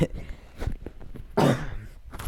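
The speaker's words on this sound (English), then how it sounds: "Excuse me, I had to cough." A single harsh cough bursts out midway, loud and close, with faint murmuring before and after it.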